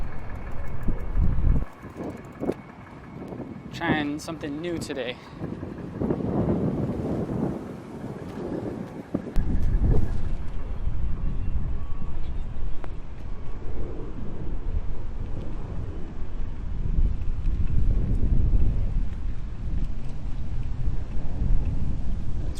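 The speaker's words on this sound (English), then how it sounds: "I'm getting a little confused by all the wind and traffic here, all the noise" Heavy wind buffeting a microphone mixed with passing road traffic during a bicycle ride, a loud continuous roar with gusts and rumbles throughout, and a voice speaking briefly near the start.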